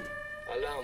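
An electronic alarm siren in Ghost Recon Wildlands wails steadily, rising in pitch partway through, with a voice speaking over it.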